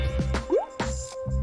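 Food coloring drips into a bottle of water with liquid soap, giving a single clear, close plop over a steady background hum.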